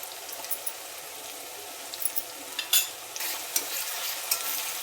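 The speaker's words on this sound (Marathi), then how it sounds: "आता हा उरलेला टोमॅटो घालून घेऊ याच्यामध्ये आणि छान मिक्स करून घेऊया" Tomatoes and ginger-garlic paste for pav bhaji are stirred in a pan, making a constant frying hiss with scattered scrapes and clacks of the spoon that grow busier toward the end; no one speaks.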